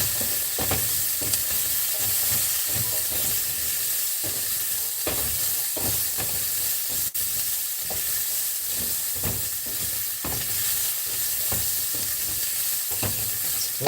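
Asparagus sizzles steadily in a hot pan while being stirred, with a continuous frying hiss broken by regular scraping strokes of the utensil, close and fairly loud, no talking.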